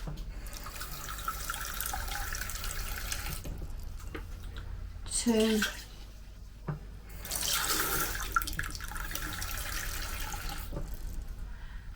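Cups of water are poured into the inner pot of a Cosori 5.7-litre pressure cooker for a pressure test. There are short splashing pours with pauses between them, and a man counts aloud.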